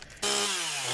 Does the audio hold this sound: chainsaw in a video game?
yes